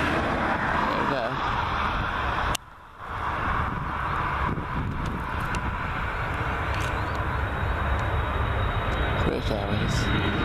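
A British Airways airliner takes off or lands at Gatwick Airport, its steady, loud engine roar filling the clip with heavy wind buffeting the microphone and one brief dip partway through.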